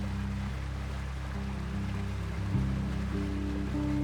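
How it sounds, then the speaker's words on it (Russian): A river flows through a remote desert canyon, a steady faint rushing of water with a low engine-like hum running underneath throughout. "А вот и та самая река, которая занималась дизайном этого места."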